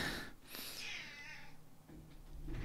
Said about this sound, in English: I'm sitting with the cat who's just jumped off my lap